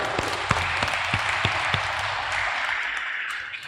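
Wedding guests applaud the newly joined couple, opening with a few distinct, spaced claps that quickly blend into a continuous, even patter of crowd clapping, then tapers slightly toward the end.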